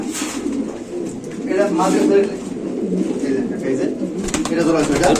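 Pigeons coo steadily and close by, in a continuous murmuring chorus with people talking over it throughout.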